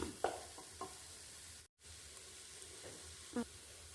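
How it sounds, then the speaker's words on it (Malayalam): Wilted onions stirred in a pan for chicken biryani, giving a faint soft sizzle with a few scraping strokes of the spoon and a brief dropout partway through, no talking. "ഇത് നന്നായി ഒന്ന് ഇളക്കിയെടുക്കുക നല്ല വാടി വന്നിട്ടുണ്ട്"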